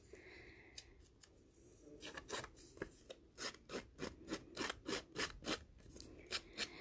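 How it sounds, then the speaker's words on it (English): A thick piece of papercraft being rubbed off by hand, a close, faint rhythmic rasping, a few scattered scrapes and then about a dozen even strokes in a steady back-and-forth, no talk. "She might just rub that piece off because it's quite a thick one there."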